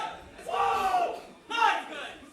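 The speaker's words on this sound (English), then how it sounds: "So that's some cheering." A crowd cheers and shouts at the Six Invitational esports event, in two loud swells of many voices with a gap between them.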